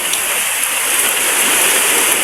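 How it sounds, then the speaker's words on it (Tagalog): Big typhoon waves on the Leyte coast during Typhoon Ada, a loud, steady wash of churning, crashing surf with no pauses. "Lalakihan mga alon guys"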